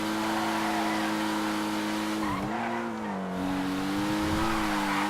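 A Grotti Itali GTO sports car in GTA 5 drives with a steady, smooth engine drone whose pitch dips and rises as it shifts, with a brief tire skid midway.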